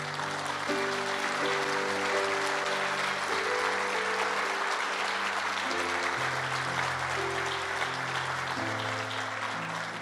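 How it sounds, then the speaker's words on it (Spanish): Congregation applause during a church service, continuous dense clapping that holds steady for the full stretch, with sustained organ-like music chords playing underneath. "Dale el mejor aplauso al Señor."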